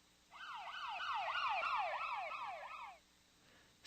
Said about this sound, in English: Think about an ambulance driving along past you.